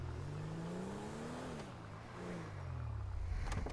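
A car engine in Grand Theft Auto V runs steadily, its pitch rising and falling as it drives and revs, loud and continuous with no talking.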